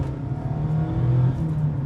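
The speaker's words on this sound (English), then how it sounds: "What is kind of a fun change for 2024 is the new induction sound." A 2024 Mazda MX-5 ND3 with an opened-up airbox gives a steady, close engine hum and induction drone that swells slightly as it revs, heard alone without talk.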